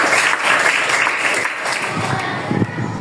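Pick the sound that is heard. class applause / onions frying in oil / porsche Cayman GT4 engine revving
class applause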